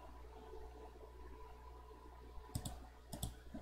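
A computer mouse gives two quick pairs of sharp clicks near the end, close and distinct over a quiet room hum.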